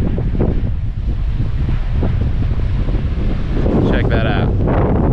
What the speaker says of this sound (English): It's stunning, but it is really windy.